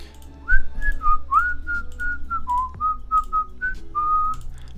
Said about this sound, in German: Dieses Elevator-Gepfeife hier immer